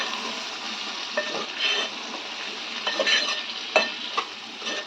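Eggplant curry pieces fry in hot oil while being stirred, giving a steady close sizzle broken by scraping strokes and a few sharp clinks of a utensil against the pan.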